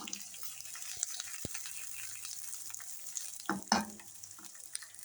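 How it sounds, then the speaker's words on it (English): Onions frying in a pan for a homemade burger: steady close sizzle with scattered crackles and a couple of sharp knocks, brief louder stirring and scraping near the end. "to fry those onions a little"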